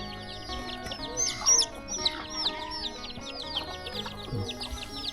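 Chickens cluck and chatter close by in a rural village in the evening, a busy overlapping series of short calls with a few louder squawks, with no voices.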